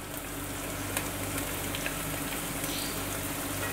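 Capsicum and carrots frying in oil for chicken chowmein over medium-low heat, a steady close sizzle and crackle with no voices.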